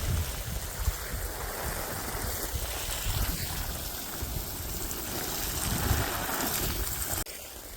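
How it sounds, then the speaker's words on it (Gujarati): Water spraying from a hose like a shower to soak cattle bedding, a steady, fairly faint rushing hiss with a low rumble underneath, cutting off near the end. "ફુવારાની જેમ પાણી જાય ને તો બધું એક જગ્યાએ પડે નહીં, સરખાઈથી પલળી જાય."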